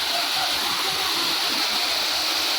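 Waterfall on the Ayodhya hills, a steady broadband rush of falling water, close and constant throughout with no breaks.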